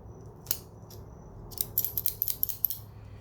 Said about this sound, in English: Cut a little piece off with the tip.